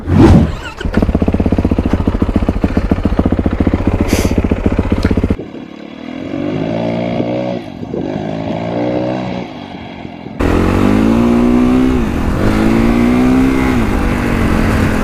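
Kawasaki KX dirt bike engine revving hard and shifting, loud and close, with bursts of acceleration and drops in pitch between gears, no talk.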